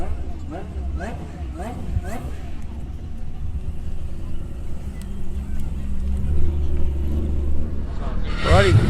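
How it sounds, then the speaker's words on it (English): Several cars pulling away from an outdoor car show, engines rumbling and revving close by in a steady low drone, with a sharper burst near the end and people talking over it. "A lot of other cars are leaving."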